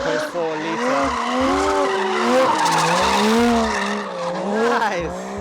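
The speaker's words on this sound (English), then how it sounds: "His brother is drifting it right now." Loud, sustained tire squeal from a rear-wheel-drive car drifting at Ebisu Circuit with the engine revving underneath, as someone talks briefly over it.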